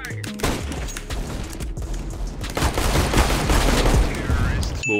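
Gunfire in the video game CS:GO, loud dense bursts of rapid shots and booming impacts packed together for several seconds, with short quieter gaps between volleys.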